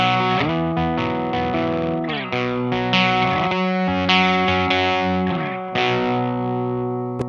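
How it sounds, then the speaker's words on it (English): An electric guitar runs through a NativeAudio Kiaayo pedal with the gain knob at minimum, giving a cleaner tone as a melodic run of sustained, slightly driven notes plays loud and close with a fading final note. "So at minimum on the gain knob, we're gonna get a cleaner sound."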